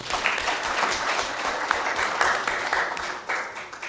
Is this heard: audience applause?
yes